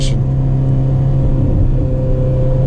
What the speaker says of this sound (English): Just one acceleration.